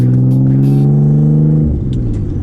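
Twin-turbo car accelerating, a loud steady engine drone with a sustained low tone that rises slightly before dropping off as the throttle changes, heard up close from inside the car with no talk.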